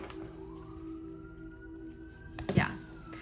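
A siren wails with a slowly rising tone at moderate distance, then a brief louder burst of noise cuts in near the end.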